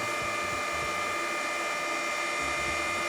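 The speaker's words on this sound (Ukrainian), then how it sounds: "тому в них активне охолодження завдяки вентиляторам, і завдяки цьому він працює досить гучно" Cooling fans of a proVolt RI-3000-24 hybrid 3 kW solar inverter run loudly and continuously, giving a steady whirring drone with several sustained tonal whines and no talking.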